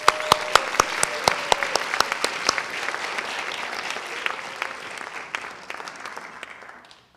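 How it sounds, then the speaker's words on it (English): An audience applauds an award recipient at a school laurels night, with one loud, sharp clap ringing out repeatedly over dense crowd clapping that gradually fades and thins out toward the end. "Give him another round of applause."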